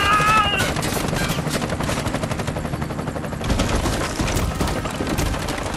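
Rapid bursts of automatic gunfire crackle loud and dense throughout an intense firefight in the shooter game Bright Memory: Infinite, with the volleys running almost without a break.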